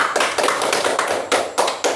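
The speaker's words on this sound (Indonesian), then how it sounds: "Beri tepuk tangan yang gemuruh." Classroom of students applauding a group of classmates, a loud burst of rapid hand claps with uneven bursts and accents, close and alone.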